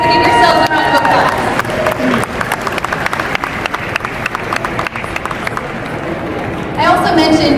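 Round of applause from an audience of about 200 people at a work event in Vegas, dense clapping and crowd noise filling several seconds, loud and close, with some voices mixed in.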